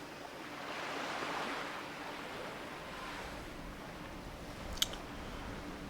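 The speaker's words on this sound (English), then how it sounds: "Yes, swimming along." A troll character swims through warm desert water in World of Warcraft Classic, a soft, steady wash of splashing and flowing water with a small sharp click near the end.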